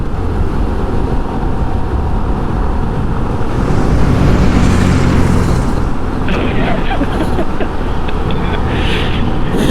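A 2021 Honda CT125 carrying heavy rear ballast rounds the corners of a dirt speedway. Its engine drones steadily under constant close wind roar that shifts slightly as it slows through the turns.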